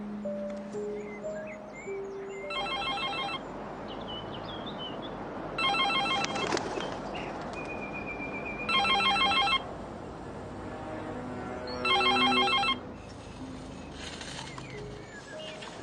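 An unanswered telephone rings in four evenly spaced bursts, each about half a second to a second long, fairly loud against a quiet indoor background, with no one speaking.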